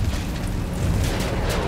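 Artillery shells exploding in the video game Battlefield 1, producing a dense, loud, continuous rumbling roar of blasts with no gaps.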